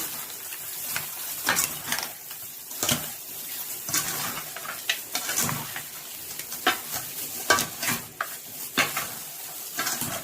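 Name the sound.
stir-frying ingredients for braised pork leg in pan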